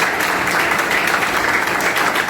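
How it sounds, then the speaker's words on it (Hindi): Loud, steady applause from a crowd welcoming a teacher at a Teacher's Day event in an institute, a dense, even clatter of many hands lasting throughout without pause. "जोरदार तालियों के साथ स्वागत करें"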